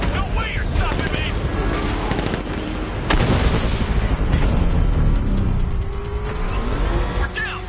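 Dense, continuous gunfire and booming blasts in Batman: Arkham Knight, loud and sustained throughout with layered bursts and heavy impacts, amid in-game voices.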